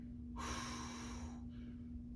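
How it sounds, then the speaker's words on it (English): One heavy, audible breath out through the nose and mouth during a stick mobility exercise, a sharp rush of air lasting about a second over a steady low hum, then quiet. "Make sure you're breathing."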